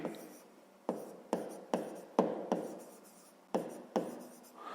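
Pen writing out a fifth-grade math solution on paper, a series of about nine sharp scratchy strokes at irregular intervals, close and quiet, with no talk.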